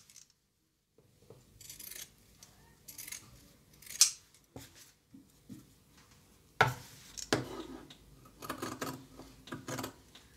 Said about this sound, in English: I just cut my seam allowance smaller.